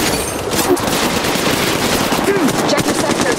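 Rapid automatic gunfire from the Apex Legends Mobile video game rattles in dense, continuous bursts, with a busy game soundscape behind it.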